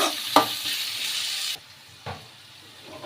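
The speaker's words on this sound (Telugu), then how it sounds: "మిరపకాయలు ఇంకా ఉల్లిపాయలు అయితే వేసుకొని ఏగనీయాల ఇవి గోల్డెన్ కలర్ వచ్చే వరకు ఏగనీయాలి" Green chilies and onions frying in a pan, a steady broadband sizzle for about a second and a half with a stirring scrape, then quieting to a softer hiss with an occasional clink.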